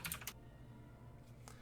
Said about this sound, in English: So getting some feedback on someone's keyboard.